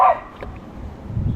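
A cattle dog gives one short, loud bark at the very start. Quiet low rumbling follows for the rest of the moment.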